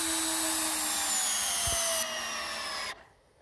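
A power driver sinks a T40-bit screw into log bridge decking without pre-drilling, a steady high whine running for about three seconds under a brief low thump, then cutting off abruptly.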